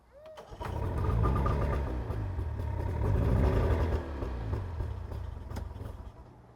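An old boat engine cranks and catches after about half a second, then settles into a loud, steady, rumbling idle heard close up.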